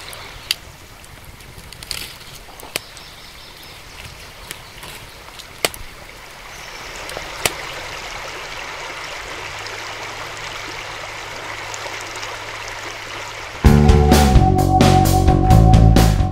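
Steady rushing water from the Lyaga river flowing past a bank with a camping spot, heard close and continuous with occasional small clicks, before a louder broadband rumble takes over near the end.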